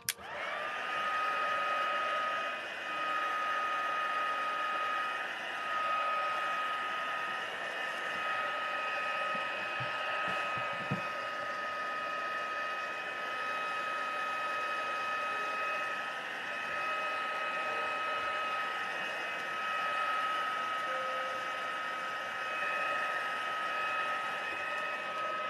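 A hair dryer blows steadily across a freshly painted watercolour of a polar bear and igloo, a continuous whirring hum with a high whine, running close and loud without a break for the whole stretch.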